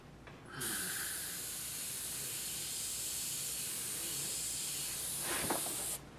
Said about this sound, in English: I just gotta see where I'm spraying